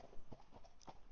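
A horse walks near a construction site, hooves clip-clopping in a steady, faint rhythm of several light strikes, with no talking.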